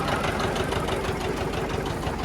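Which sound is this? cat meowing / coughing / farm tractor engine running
farm tractor engine running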